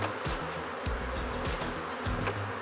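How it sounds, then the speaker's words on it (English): Honey bees flying back toward a hive, a steady close buzzing drone of many insects with individual bees sweeping past the listener, continuous and without voices. "Flying bees coming back now."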